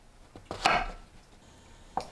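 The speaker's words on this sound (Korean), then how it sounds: "새송이 버섯을 1cm 두께로 썰어주세요" A knife slices through a king oyster mushroom into 1 cm thick rounds on a cutting board, with a few crisp separate cuts, one louder chop, then a lone tap after a pause.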